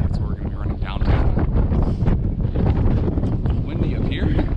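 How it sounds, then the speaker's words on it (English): Strong wind buffets the microphone at a high overlook above Skull Valley, Arizona, during a long-distance footrace, a loud, continuous roaring rumble with gusty swells throughout. "Windy up here"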